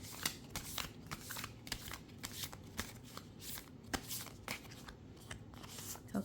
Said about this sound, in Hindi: I am authentically shuffling for you